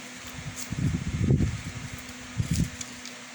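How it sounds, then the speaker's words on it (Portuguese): Wind gusts buffet a microphone outdoors, producing low rumbling bursts that swell and fade in two main waves over a faint steady hum, with no clear speech. "o vento está batendo aqui e dificulta um pouco"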